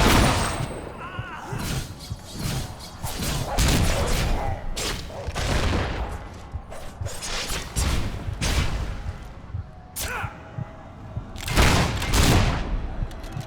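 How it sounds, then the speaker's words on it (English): Video game gunfire in Fable 3 at Traitor's Keep: repeated loud shots and bursts strike in irregular clusters, mixed with booming impacts and other game sounds. "You keep shooting at me."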